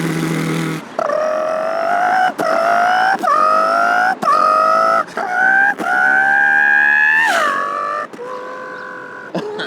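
A man vocally imitates a Pagani Zonda R flyby, his voice rising through a series of revving, gear-shift-like pitch climbs with brief breaks between them, then swooping down as the imagined car passes, loud and close.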